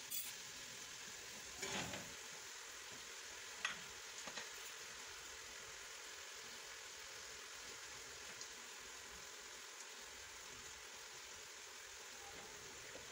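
Vegetables and potatoes fry in a pan with a steady, faint sizzle throughout, broken by a couple of brief louder pops and stirs near the start.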